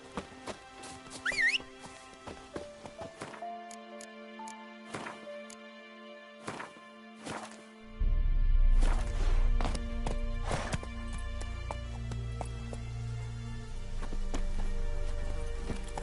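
Horse hooves clip-clopping under a rider in The Witcher 3: Wild Hunt on PS4, heard as sharp, spaced hoof hits that give way to a faster gallop over a rumbling game score, with no talking.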